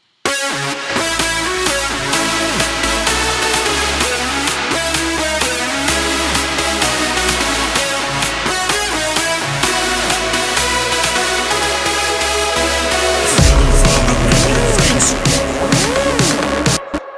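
A bright synth lead plays a busy melody over a full electronic track with steady bass, shifting to a sparser texture near the end, with no voices.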